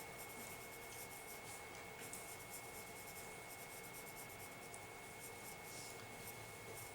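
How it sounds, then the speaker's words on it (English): A pencil drawing a light slanting line on paper, a faint soft continuous scratch heard up close over quiet room hiss. "I'm going to draw a slanting line, really light, and I'll make it darker so you can see it."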